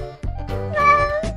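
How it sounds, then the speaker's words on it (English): A domestic cat meows several times in a row, clear and close, with a short pause between calls and no other sounds around it. "Cat."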